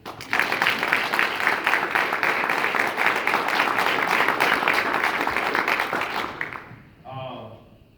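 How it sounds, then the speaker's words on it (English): Sustained audience applause at a Martin Luther King Jr. Day service event on a military base, dense and steady for about six seconds before cutting off, followed by a brief trailing sound. "can everyone just clap for these two young people?"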